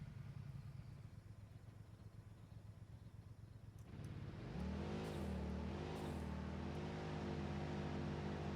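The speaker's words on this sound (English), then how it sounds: "I have a car here." A car in the video game Satisfactory idles quietly with a low engine hum, then revs up and accelerates into a loud, rising drive.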